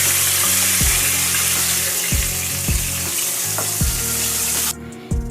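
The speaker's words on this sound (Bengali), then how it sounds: "এইভাবে ফ্লেমটাকে মিডিয়ামে রেখে ভালো করে প্যাটিটা ভেজে নিতে হবে।" Chicken burger patties deep frying in hot oil over a medium flame give a loud, steady sizzle, with a few soft knocks repeating throughout before the sound drops away abruptly near the end.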